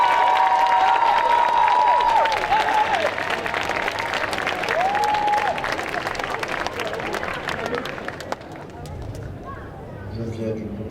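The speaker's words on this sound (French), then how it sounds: "je vous demande de faire un tonnerre d'applaudissements pour Damien Toucourt en Kratos de God of War" A convention audience applauds a cosplayer dressed as Kratos from God of War during a cosplay show at Clermont Geek Convention: sustained dense clapping and crowd noise with tonal sounds over it. The applause fades toward the end as a voice begins.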